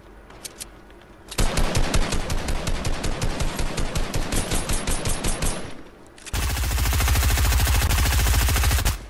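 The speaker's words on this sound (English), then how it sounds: "Trying to kill him with an SMG and it's not working out" Rapid bursts of submachine gun fire in Fortnite, loud and close, sustained in a steady chattering rhythm for several seconds, a short pause, then a second continuous, denser stream of shots.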